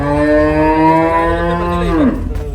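A cow on a Punjab farm in Thariewal village, Amritsar district, lets out a single loud, close, drawn-out moo that slides downward in pitch at the end.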